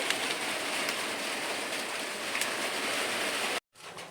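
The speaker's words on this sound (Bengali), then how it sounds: "এদিকে দেখুন বৃষ্টিও চলে এসছে" Steady rain pours down close by during outdoor cooking of bhapa pitha wrapped in banana leaves, a dense continuous hiss that cuts out abruptly near the end before resuming.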